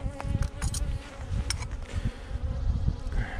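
Honeybees buzz densely around beehive frames, a close, continuous droning swarm with individual bees passing near.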